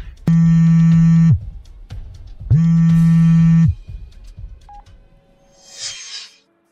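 Two long, loud telephone dialing tones, each held a little over a second with a short gap between, as a number is called; faint rustling and a brief burst of noise follow.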